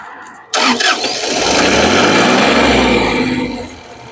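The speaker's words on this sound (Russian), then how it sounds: "запустим тракторок" A Shibaura SL1643 compact tractor engine cranks and catches with a loud roar, then runs steadily at a rough, close idle before easing off slightly at the end.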